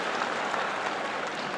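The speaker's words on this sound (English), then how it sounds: "Just listen to this crowd." A crowd at a China Table Tennis Super League match applauds in a dense, sustained wash of clapping that holds steady throughout, loud and close.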